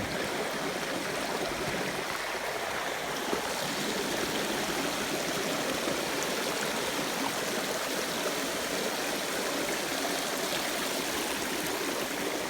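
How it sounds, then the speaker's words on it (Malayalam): A forest stream near a waterfall flows steadily, a constant full rushing of water heard up close with no talking. "അരുവി എന്ന് പറഞ്ഞിട്ടുണ്ടെങ്കിൽ നല്ല അടിപൊളി അരുവിയാണ് കേട്ടോ"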